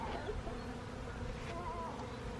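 Honey bees buzz softly around, a faint continuous drone with a few individual insects passing closer now and then.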